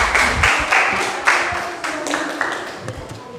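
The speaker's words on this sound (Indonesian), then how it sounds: "Berikan aplaus untuk kita semua." A classroom group claps together, with scattered, uneven hand claps that come in loose bursts and fade over a few seconds. Faint voices mix in underneath.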